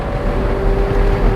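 McLaren 720S Spider engine running while driving with the roof open, a steady low drone with a faint constant tone layered over wind rush, continuous and close throughout.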